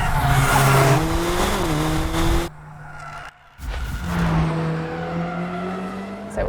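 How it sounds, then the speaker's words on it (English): A Mercedes-AMG drifts with heavy wheel spin, its engine howling at high revs over loud tire squeal, briefly dropping near the middle before the screeching slide and engine roar resume. "So it was a really nice drift."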